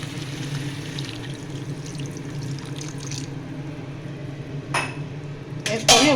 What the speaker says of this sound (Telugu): కొంచెం అంతా వాటర్ వేసుకుందామండి.